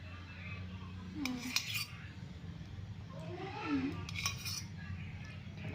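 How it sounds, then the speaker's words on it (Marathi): A spoon scoops curd from a container to add to a masala paste, giving a few quiet clinks and scrapes of metal against the dish over a steady low background hum. "दह्यासाठी चमचा घेते जास्त नाही दही घालणार"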